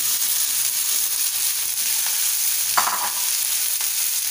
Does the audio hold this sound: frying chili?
yes